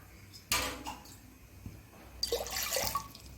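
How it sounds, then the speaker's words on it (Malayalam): Water splashes and pours briefly into a metal pressure cooker, with a clatter at the start and a longer gurgling pour near the end. "ഒരു കുക്കർ അടുപ്പത്തിച്ചു അതിലേക്ക് ഞാൻ ഒരു ഒന്നര ഗ്ലാസ് വെള്ളം ഒഴിച്ചു കൊടുക്കാം"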